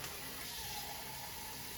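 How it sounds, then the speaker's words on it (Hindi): Water poured into a cooking pot while making white pulao rice at home, a steady, moderately quiet rushing stream heard alone throughout. "और अब मैं इसमें डालूंगी पानी।"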